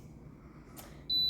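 An electric cooker's control panel beeps as it is set while sweet potato casserole is prepared, a brief click followed by one sustained high electronic beep over a low background hum, with no talk.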